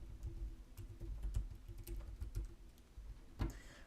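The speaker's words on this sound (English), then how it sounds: "I'm typing in local entrepreneurs." Rapid, uneven keystrokes tapped on a computer keyboard, close by over a low background hum, with one louder clack near the end.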